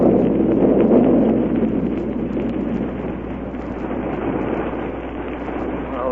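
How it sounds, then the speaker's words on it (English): A radio-drama rocket ship taking off, a loud, dense roar that swells at the start and then rumbles on steadily, with no voices over it. "Well, there goes our rocket ship."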